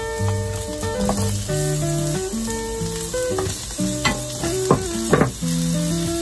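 Carrots sizzle and fry steadily in a pan while cooking sukine, a continuous loud crackling hiss with occasional stirring scrapes and clinks, no voices.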